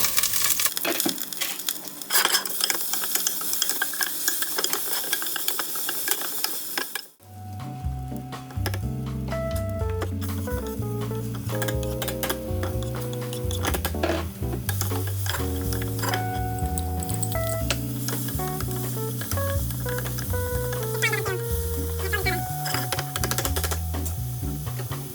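Ginger sizzling and frying in hot oil for Japanese curry, a bright hiss at the start that gives way after a few seconds to steady frying crackle under background music.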